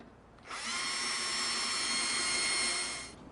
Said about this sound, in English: And then we will begin to drill our pilot holes.